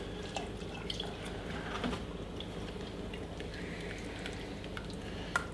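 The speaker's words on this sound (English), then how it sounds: "keep stirring. Just in a round motion, like so." White sauce for lasagne is stirred in a pan in a steady round motion, producing a soft continuous bubbling and sizzling hiss with faint scraping.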